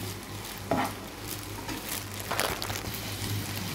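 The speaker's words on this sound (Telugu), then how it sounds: "ఫ్రై చేద్దాం." Green chillies frying in a pan give a soft, continuous sizzle, with a couple of brief stirring scrapes standing out; the cooking is fairly quiet and close, with no talking over it.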